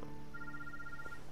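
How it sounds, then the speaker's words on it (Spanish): A telephone rings in the video game Days Gone, a short electronic tone held steady over a low background hum, brief and moderately quiet. "Teléfono."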